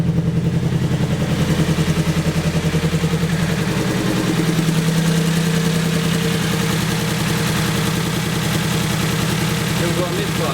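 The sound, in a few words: engine idling with spark plug misfire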